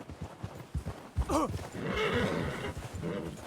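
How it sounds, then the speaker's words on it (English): A horse whinnies loudly and close by, a rising and falling neigh set against quiet hoof clops and low murmuring voices before it, followed by steady rustling movement. "We should leave the horses."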